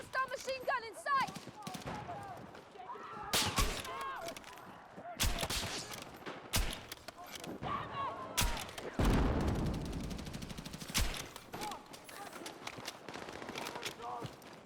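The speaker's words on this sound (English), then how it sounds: "Hostile machine gun in sight!" Bursts of machine gun fire and scattered shots ring out in a Battlefield 6 multiplayer match, loud and overlapping, with a voice speaking over the opening moments.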